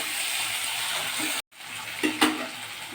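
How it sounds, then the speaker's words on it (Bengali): Onion, green chilli, garlic, ginger, capsicum and tomato frying in a pan for soybean chilli manchurian, a steady close sizzle with a short break and a couple of stirring scrapes near the end. "পেঁয়াজ, কাঁচা লঙ্কা, রসুন, আদা কুচি ভাজার পরে আমি দিচ্ছি ক্যাপসিকাম কুচি আর টমেটো কুচি, দিয়ে আরেকটু লাল করে ভাজবো।"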